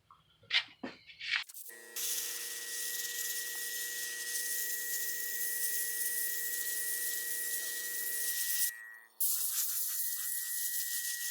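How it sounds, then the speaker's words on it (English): Testors opaque white spray paint hisses steadily from an aerosol can onto the teeth of a DIY mask, one long continuous burst that briefly cuts out near the end and resumes, after a few short rattles and taps. "I'm going to go ahead and start painting in the teeth white. And for that I'm going to use some testors opaque white."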